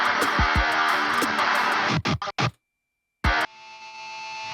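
A synth riser for a modern metalcore intro swells upward after a sharp hit, growing steadily louder over about a second following a brief silence that cuts off a dense, full mix.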